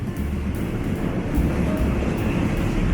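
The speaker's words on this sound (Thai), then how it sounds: "ตอนนี้รถไฟกำลังวิ่งมาเพื่อน" A train rumbles past close by at a night street-food market in Talat Phlu, Bangkok, a steady low roar and rattle of rolling wheels that stays loud throughout.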